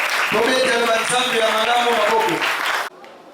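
A church congregation bursts into clapping and cheering during a sermon, mixed with raised voices, before the noise cuts off abruptly near the end.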